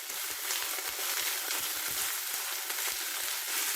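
Ginger paste sizzles steadily in a hot pan, a continuous close hiss with faint scrapes of stirring and no talk.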